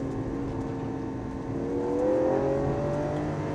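A Lamborghini Aventador supercar accelerates hard, its engine note rising steadily in pitch and swelling louder toward the end, a continuous close roar with no talking.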